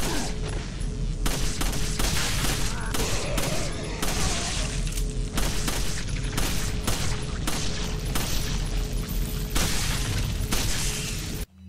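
Dense, continuous gunfire and blasts in the video game Resident Evil 4 on PS4, a loud rapid barrage of shots with a steady tone running underneath throughout.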